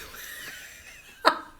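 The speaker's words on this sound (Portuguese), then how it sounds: "olha, está a tossir outra vez" A girl gives a single short, sharp cough near the end, preceded by quiet breathy ambience, close and fairly soft.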